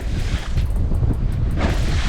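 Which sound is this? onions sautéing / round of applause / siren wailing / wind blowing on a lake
wind blowing on a lake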